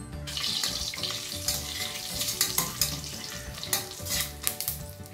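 Whole spices, cardamom and shahi jeera, frying in hot fat in a pressure cooker for egg biryani, a loud close crackling sizzle with bursts of spitting and stirring scrapes throughout.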